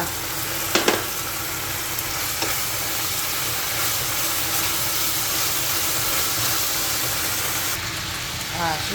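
Aubergines stir-fry in a pan as a steady broadband sizzle with brief stirring clatters near the start, continuing evenly and fairly close throughout.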